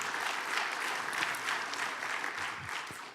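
Steady audience applause fills a Portland civic event hall, dense clapping from a crowd holding at an even level throughout without a break.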